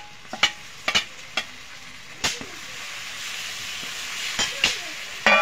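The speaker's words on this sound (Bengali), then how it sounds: "আমি পেঁয়াজ রসুনটা কিছু সময় কষিয়ে নিয়েছি, এবার দিয়ে দেবো আদা শুকনো লঙ্কা বাটা, জিরে ধনে বাটা।" Ginger, dried red chilli, cumin and coriander paste frying with onion and garlic for a chicken kosha, a soft sizzle broken by sharp clinks and scrapes of stirring.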